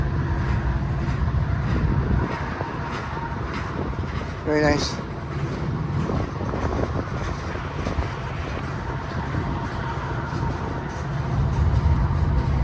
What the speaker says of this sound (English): Yeah, this train's still going way out there.